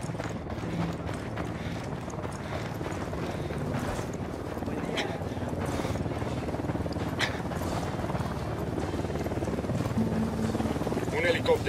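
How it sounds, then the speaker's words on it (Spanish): A helicopter flies in the video game Ghost Recon Wildlands, a low, steady rotor thump with rumbling noise, while someone talks over it. "Un helicóptero, que no los vea."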